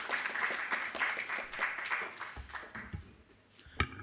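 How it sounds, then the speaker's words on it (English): Audience clapping for the British Chargé d'Affaires at a parliamentary capacity-building event, a steady round of applause that thins out toward the end, leaving a few scattered claps. "A round of applause for him,"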